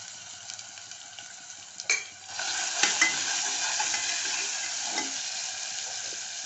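Garlic goes into a pan of frying onions, a sudden clatter followed by steady, close sizzling and crackling oil that keeps on with occasional stirring scrapes, and nobody talks.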